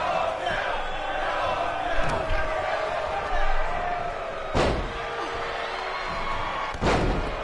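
Heavy body slams onto a wrestling ring mat during a DDT in the WWE 2K20 video game, with Kevin Owens driving Daniel Bryan down. Two or three sharp, loud thuds ring out over a steady roaring arena crowd.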